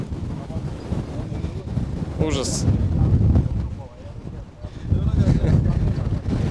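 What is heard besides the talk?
strong wind buffeting the microphone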